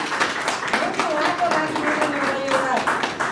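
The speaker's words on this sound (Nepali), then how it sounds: "त्यसको लागि चाहिँ तपाईँ ताली बजाउनु" An audience claps at an award presentation ceremony in Mirik, Darjeeling, a steady patter of many hands with a voice speaking over the applause throughout.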